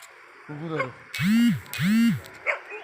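Village dogs bark close by: a few softer yips, then two loud, drawn-out barks in quick succession, followed by fainter barking in the background.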